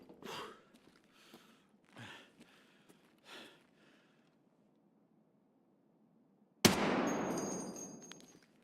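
A single sharp, loud rifle shot in Escape from Tarkov cracks out after several seconds of quiet breathing, its echo trailing off slowly.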